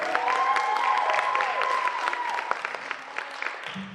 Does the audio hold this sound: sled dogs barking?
no